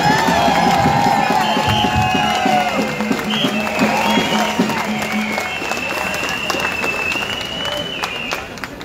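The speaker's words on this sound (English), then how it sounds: "everyone give yourselves a round of applause for being here" A large crowd at a Freedom Rally claps and cheers loudly, with whoops and shouts, the applause slowly easing off.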